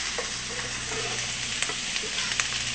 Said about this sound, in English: into the hot grease goes some peppers and onions